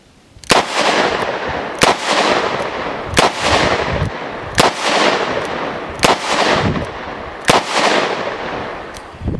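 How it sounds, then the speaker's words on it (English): A Ruger Super Redhawk Alaskan revolver chambered in 454 Casull fires 45 Colt rounds outdoors. Seven loud, sharp reports come at a slow, even pace, each ringing out briefly before the next, with no talking. "When you're shooting it with 45 Colt, it's mild, and it's a heavy gun."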